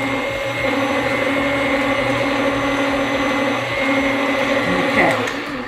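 An electric mixer whirs steadily as it stirs sweet potato pie filling in a bowl, a continuous close motor hum with light churning texture and no talking.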